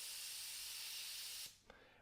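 An airbrush sprays paint in a steady, close hiss that runs for about a second and a half and then cuts off, followed by a faint click and quiet background.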